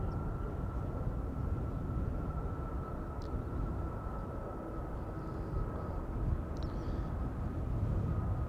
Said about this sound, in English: Corendon to Hurghada. Just now took to the sky from center.